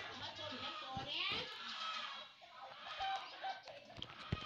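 A chicken clucking nearby, with short rhythmic clucks and squawks amid rustling and handling noise, while a voice speaks intermittently.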